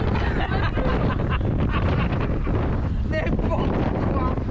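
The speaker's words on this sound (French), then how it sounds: "le vent, il rentre dans mes narines" Strong wind buffets the microphone on a boat at sea, a loud continuous roaring rumble with gusting texture, with faint voices mixed in beneath.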